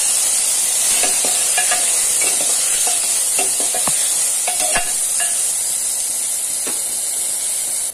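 Mixed vegetables being stirred into hot oil in a frying pot for soya chunks biryani, with a loud constant hiss under repeated sharp spoon scrapes and clinks against the metal, close up and with no talk.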